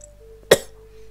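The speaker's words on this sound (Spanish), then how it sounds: "Uy, qué mal suena la ocarina" A badly played ocarina in The Legend of Zelda: Ocarina of Time randomizer comes out as a single short, raspy, cough-like burst over a quiet steady tone, with no talking.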